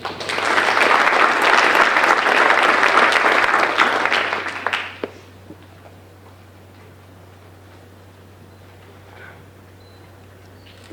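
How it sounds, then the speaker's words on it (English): Applause from an audience at a high school senior awards ceremony for the final group of honors graduates, a dense, steady clapping for about five seconds that ends abruptly, followed by a quiet room with faint background hum. "round of applause for our last group of"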